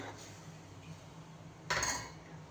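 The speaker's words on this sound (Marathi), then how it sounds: "शेवग्याच्या शेंगा उकडायला ठेवलेल्या होत्या त्या देखील आता ह्यात टाकून घेते म्हणजे चव चांगली येईल आणि एकदा हलवून घेणार आहे" A ladle stirs dal (phodniche varan) in a metal pot after boiled drumsticks are added. A few quiet scrapes lead to one clear metallic clank near the end, close and without voices.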